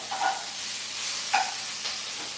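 Bacon sizzling and hissing in a breakfast frying pan, a steady bright spitting hiss with a few louder pops as strips are moved or turned, fairly close and with no talking.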